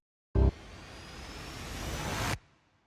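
Atmospheric riser for an industrial metalcore intro: an abrupt low thump, then a noisy swelling wash that grows steadily louder for about two seconds and cuts off sharply.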